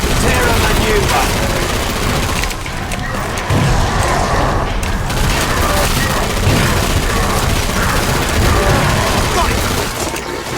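Guns firing in the video game Killing Floor 2: loud, dense, sustained bursts of automatic gunfire with heavy booms and shattering impacts, with voices talking over the barrage.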